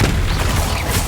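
A Confringo fire spell blasting in Hogwarts Legacy, a booming fiery impact with dense low rumble running steadily through the short burst, loud and close.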